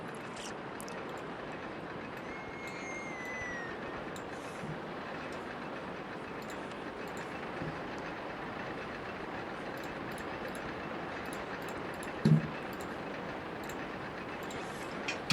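Roller coaster trains run in the RollerCoaster Tycoon Loopy Landscapes game, a steady rumbling rattle with faint clicks under continuous park ambience and one brief louder bump.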